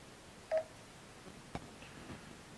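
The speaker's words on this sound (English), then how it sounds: "Now the GPS is going to make a phone call for you." A Garmin nuvi 765T GPS dials a phone call over Bluetooth: a single short, clear dialing tone, followed by a few faint ticks in a quiet room.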